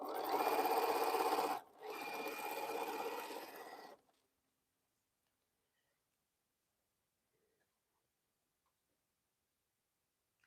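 A sewing machine stitches quilt block units in two close bursts of fast, steady needle chatter with a brief pause between them, then stops, leaving near silence.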